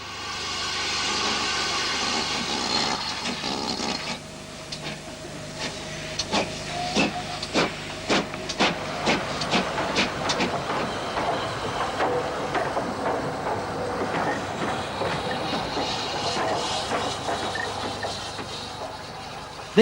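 Steam locomotive Impney Hall, a GWR Hall class engine, stands with a train of LNER vans at Banbury, hissing steam loudly throughout with a run of rhythmic exhaust beats in the middle.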